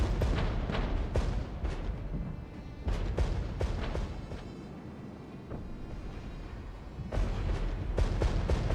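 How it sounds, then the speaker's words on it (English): Off-map artillery shells hammer down in the war game Regiments, a rolling series of loud explosive booms and sharp blasts arriving in clusters, with a quieter rumbling lull between the heavy volleys. "Big artillery strikes coming in."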